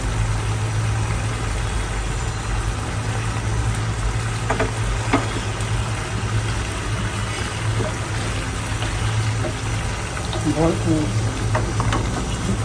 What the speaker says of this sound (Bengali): মিটবলটা একটু কষাতে হবে।